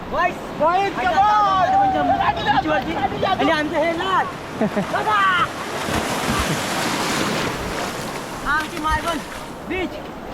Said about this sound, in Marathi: लाटा पण जोरा जोरात येतो